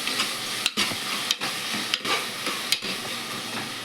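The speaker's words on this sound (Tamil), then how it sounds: "எண்ணெயில் வெங்காயம் நல்லா வதக்கி விட்டுட்டு" Onions and green chillies sauté in hot oil for a chicken kurma, giving a continuous close sizzle broken by several regular scrapes of a stirring spoon.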